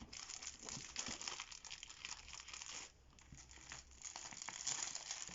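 A package from a Shein order is opened by hand, with soft crinkling and tearing of plastic wrapping in irregular bursts, close and quiet, and no talk.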